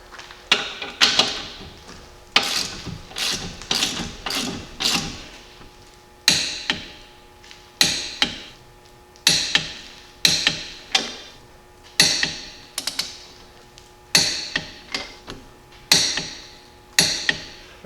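Torque wrench tightening U-bolts on a Jeep Cherokee XJ during a suspension lift, sharp metallic clicks in quick bursts of four to six, with short pauses between sets and little background noise.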